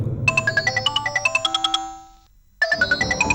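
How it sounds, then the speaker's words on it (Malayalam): A phone ringtone plays a quick, bright repeating melody of electronic tones, stops briefly, then starts again, with a low hum underneath. "രാത്രിയിൽ ഫോൺ ബില്ലടിക്കുന്ന കേട്ടുകൊണ്ടാണ് കീർത്തി ഉറക്കത്തിൽ നിന്നുണർന്ന്"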